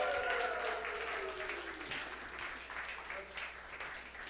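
A church congregation applauds during a New Year worship service, steady clapping filling the room with a faint sustained tone underneath, no clear talk over it.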